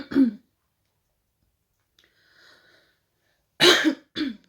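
A short throat clearing, then a pause with faint low sounds, followed by two loud close coughing bursts.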